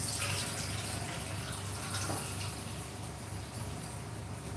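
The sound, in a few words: water poured slowly into mixed rice and beans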